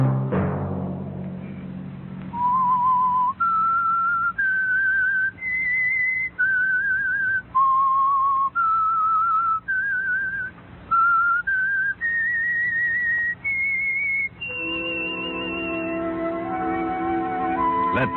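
Theme of The Whistler radio program, performed as a lone melodic whistle of sustained clear notes stepping up a scale, closer and steady, ending on a higher held note over soft orchestral backing.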